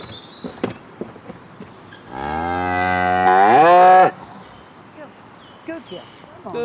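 A loud, close cow moo in a milking stall, one long drawn-out bellow lasting about two seconds that rises in pitch near its end, with scattered clatter and brief human voices around it.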